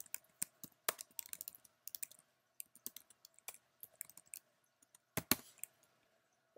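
Keys clacking as the Create React App install command is typed into a terminal: bursts of close, crisp keystrokes in an uneven rhythm with short pauses, with no voices.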